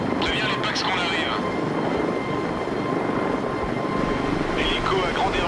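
A helicopter drones steadily as it approaches a boat at sea, its rotor and engine noise continuous and fairly loud throughout, with a voice speaking briefly over it near the start.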